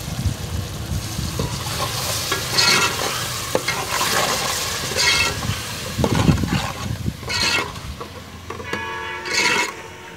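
Ground masala spices of dry coriander, red chilli and black pepper sizzle and fry loudly in a pan, with repeated stirring scrapes and clatter close up throughout.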